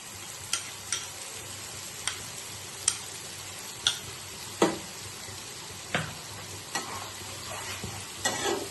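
Mustard paste sizzles in a hot pan for a fish curry, with a steady frying hiss broken by sharp, regular scrapes and clicks of a spatula stirring, close and alone without speech.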